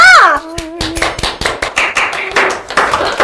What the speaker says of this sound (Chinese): 赶紧鼓掌啊！